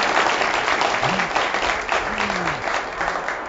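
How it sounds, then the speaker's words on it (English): A round of applause at a webcast honoring best communities for young people, steady clapping from a crowd, loud and sustained throughout, with a voice speaking over it. "give them a round of applause"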